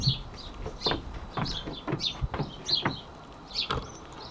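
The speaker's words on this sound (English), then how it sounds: "I can hear them chirping like crazy." Birds chirp in a garden hedge beside a sunny wooden decking, a run of short bright calls repeating every half second or so at moderate distance, with a faint clucking, scratchy undertone and no talking.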